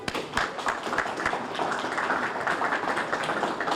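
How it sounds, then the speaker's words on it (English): Audience applause for Trey at a Thibodaux Firemen's Fair media day, a dense, steady wash of many hands clapping close by that keeps going without a break. "let's give Trey a huge round of applause"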